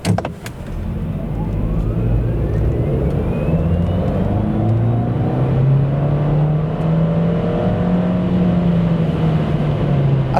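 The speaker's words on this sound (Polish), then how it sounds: "Tak auto przyspiesza od 0 do setki." MG3 Hybrid+ 2024 hatchback with a 195 hp hybrid drivetrain accelerating hard from a standstill to 100 km/h, heard from inside the cabin as a steady, loud engine drone rising gradually in pitch over about ten seconds, with no talk.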